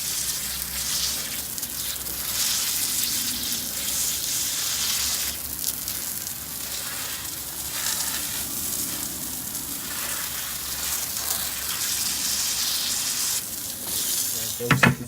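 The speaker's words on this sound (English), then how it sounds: "folks, you can see we're running water" Water running hard from a hose against a stucco wall beside a condo door frame during a leak test, a loud continuous hiss and splash with slight surging, with a brief clatter at the very end.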